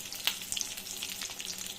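Small and larger potatoes fry in hot oil for vegetarian aloo dum, a close, continuous crackling sizzle with scattered sharp pops.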